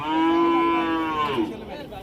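A Friesian cross-breed cow at a busy cattle market gives a single long, loud moo that holds steady and then bends downward before fading, with faint market noise behind it.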